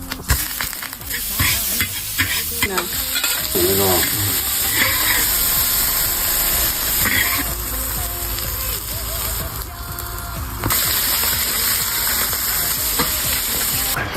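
Food pan-fries in a rural home kitchen with a loud, continuous sizzle and hiss that rises and falls as it is stirred, while people talk briefly nearby.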